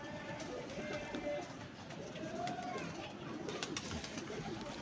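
Pigeons coo softly beneath a steady wash of outdoor background noise, with faint children's voices somewhere in the distance as the birds call on and off.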